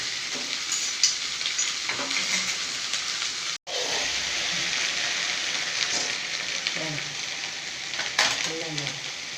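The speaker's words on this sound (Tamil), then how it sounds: "வெண்டைக்காய் வந்து கொஞ்சம் நேரம் நல்லா வதங்கணும்" Okra sautés in a hot pan for a home-cooked Tamil lunch, a continuous loud sizzle broken by scraping stirs, with a brief dropout partway through.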